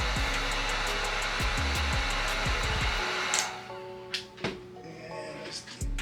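A heat gun warms a Gunskins rear slide plate on a Glock 19 with a loud, steady blowing hum for about three seconds. It then cuts off, leaving quieter handling clicks and light taps.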